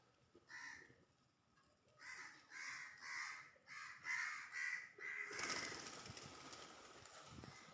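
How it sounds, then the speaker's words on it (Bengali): A crow caws repeatedly at close range near pigeons kept with their chicks. It gives a brief call, then a run of harsh caws in quick rhythm, followed by a broad rustling noise. "ওই দেখেন কাক চলে আসছে"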